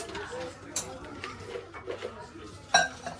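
Tea liquor being poured into cups for a group at a home gathering, with soft clinks of cups and utensils scattered through and one sharper chink near the end, all under ongoing chatter.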